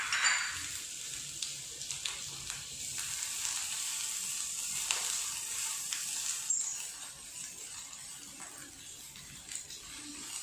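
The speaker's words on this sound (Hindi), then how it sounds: "अब हमने इसमें प्याज 1 ले लिया है, इसको स्लाइस कर लिया है, वो डाल देंगे।" Sliced onion sizzling steadily in hot oil in a home kitchen pan while making stuffed cheese paneer dinner rolls, a broad continuous fry with a loud burst at the start and occasional light stirring clicks.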